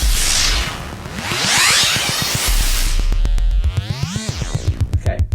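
Wild FM synth sounds from an EMS Synthi oscillator patch: loud noisy sweeps and swooshes that turn into rapidly pulsing tones and sliding pitch bends. The clip ends in a stuttering rhythmic buzz, with no talking.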